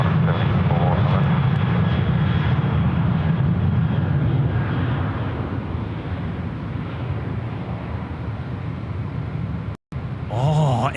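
A plane landing on runway 16 right at Sydney Airport: a steady, loud jet engine roar with rushing air that holds for around ten seconds and eases slightly toward the end.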